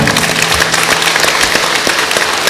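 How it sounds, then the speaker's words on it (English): A congregation at a healing service clapping as an offering to the Lord: loud, close, rapid applause from many hands, sustained without a break. "give a wonderful clap offering to the Lord"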